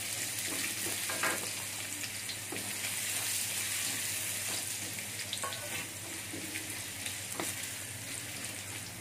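Carrots stir-frying with garlic in a pan, giving a steady, close sizzle with scattered crackles and light stirring clicks throughout, no voices.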